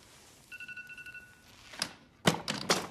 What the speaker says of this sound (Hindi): वो अलार्म बजा रहा है बेचारा फोन